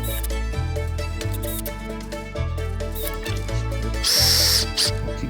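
A power drill whirs in repeated bursts, its motor pitch rising and dropping as screws are driven, with a louder high whine near the end.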